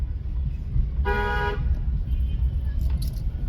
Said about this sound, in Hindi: अभी इनको हॉर्न लॉन्ग बजाइए।